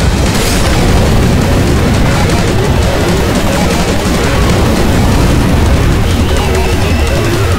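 A thrown bomb exploding in Left 4 Dead 2, a loud sustained roaring blast with dense rumbling that holds for several seconds at high level.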